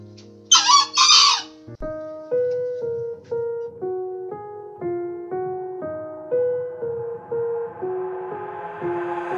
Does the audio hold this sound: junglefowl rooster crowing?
yes